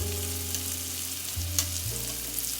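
Tuna steak searing in half a tablespoon of melted butter in a pan gives a steady, close sizzle that runs unbroken throughout, with a low hum beneath.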